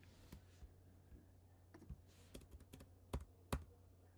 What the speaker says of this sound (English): Just typing like a crazy man